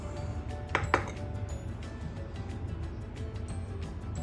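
Banana cake batter being stirred in a bowl, with heavy cream and homemade sour cream among the ingredients; a utensil clinks against the bowl twice early on, then a steady low scraping and stirring continues close by.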